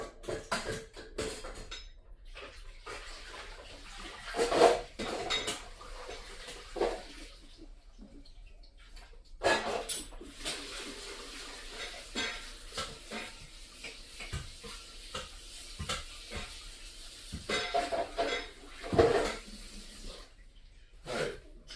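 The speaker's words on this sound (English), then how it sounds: "drain the pasta, that's rinsing." Egg noodles are drained and rinsed in a home kitchen, with running water splashing and pots and pans clanking intermittently, close and moderately loud, with no talking.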